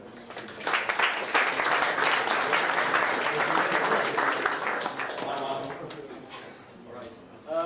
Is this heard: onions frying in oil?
no